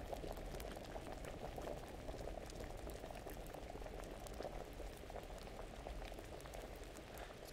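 Liquid boils in a cauldron in the video game Kingdom Come, a steady, continuous bubbling and simmering that holds evenly for several seconds with no voices over it.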